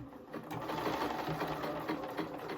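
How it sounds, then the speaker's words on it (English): A sewing machine runs a steady, continuous whir as it stitches a 5/8-inch seam on a blazer pocket lining, close by and unbroken for the whole stretch. "I'm just going to sew down here 5/8 of an inch"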